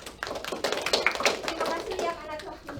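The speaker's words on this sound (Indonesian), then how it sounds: "Kita beri tepuk tangan untuk Lia" Brief round of clapping from a small class group for a student named Lia during a micro-teaching lesson, mixed with overlapping voices and some tapping.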